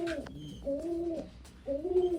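Pigeons in a home loft give soft, close cooing calls in three rising-and-falling phrases separated by brief pauses, clear against a quiet background.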